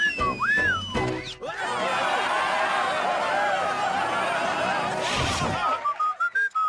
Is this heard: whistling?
yes